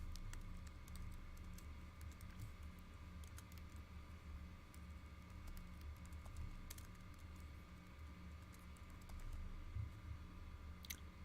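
A computer keyboard is typed on in a quiet room: faint, light key taps scattered in short irregular runs over a low background hum.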